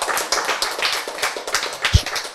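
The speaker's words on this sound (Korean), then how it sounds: "박수." Scattered handclaps ring out at a lecture, a small group clapping unevenly for a couple of seconds at fairly low volume.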